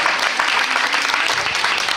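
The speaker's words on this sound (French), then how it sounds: "Voilà, on s'applaudit. Très très fort." A crowd at a Christmas preview event in Saintes applauds loudly, a dense, continuous burst of clapping filling the whole short moment.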